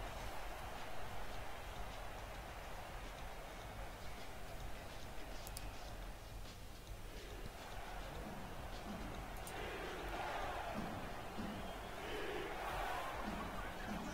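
Stadium crowd at a Carolina home football game roaring on a third down, a continuous loud mass of cheering and noise throughout, with a commentator's voice faintly present.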